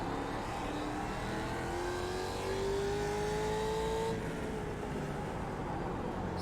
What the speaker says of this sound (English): Some guys are racing here